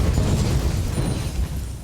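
A mid-lane outer tower collapses in League of Legends during a 2014 NA LCS playoff match, a loud, sustained booming rumble of explosion and crumbling that fades slightly toward the end.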